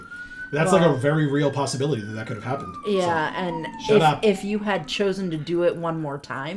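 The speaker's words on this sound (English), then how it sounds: "sorry about the sirens" A police siren outside wails as a single long, slowly falling tone, faint and distant beneath a close conversation between people.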